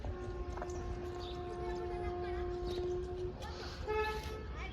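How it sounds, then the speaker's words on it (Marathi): A train horn sounds in long steady tones over a constant rumbling background among farm fields, with brief toots near the end. "आणि इकडं ट्रेन ट्रेनचा आवाज येतो खूप"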